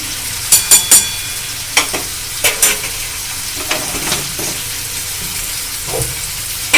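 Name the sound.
sautéing potato filling in pan for capsicum chop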